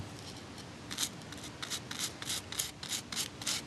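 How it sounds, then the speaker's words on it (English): A paintbrush works paint into the sand on a model, making a soft, steady background hiss with a run of rhythmic, scratchy brush strokes close by. "And just start applying it to the sand."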